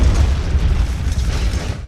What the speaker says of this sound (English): Let's try a gunshot, a cannon, an explosion or two,